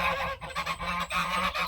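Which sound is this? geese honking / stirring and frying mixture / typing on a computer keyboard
geese honking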